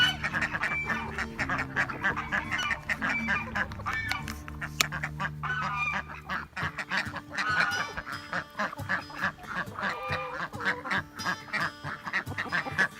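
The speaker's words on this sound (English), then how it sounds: "Even the geese are up here today." A flock of geese honking loudly and continuously at close range, overlapping calls with some rustling and low background noise.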